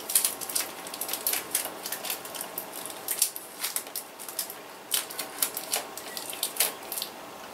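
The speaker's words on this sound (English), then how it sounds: "tape these together like that" Adhesive tape being pulled off a roll and pressed down while joining parts during a home stereo setup, heard as a run of close, quick crackling rips and taps with no talk.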